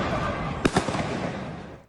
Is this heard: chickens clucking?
no